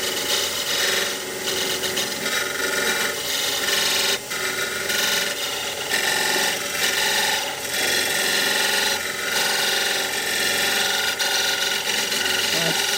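A wood lathe spins a multi-axis candlestick holder while a skew chisel cuts into the wood, producing a steady, loud rasping scrape that runs continuously with slight surges as the tool bites.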